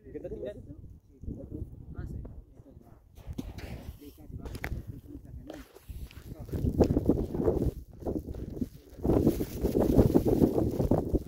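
Wind buffets the microphone in heavy rumbling gusts that grow stronger toward the end, with people talking over it.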